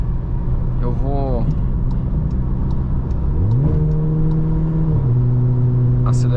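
A Volkswagen Jetta 1.4T with a stage 2 tune accelerates on a highway at speed, the engine note rising loud and close from inside the cabin, then shifting up and settling into a steady higher drone under constant road noise.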